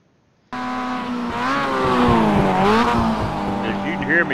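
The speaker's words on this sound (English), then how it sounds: "As you can hear me braking down into the corner there, also gearing down" A Mazda MX-5 race car brakes into a corner, its engine note falling and then blipping through downshifts as revs sweep up and down, loud and close, with a faint tire squeal toward the end.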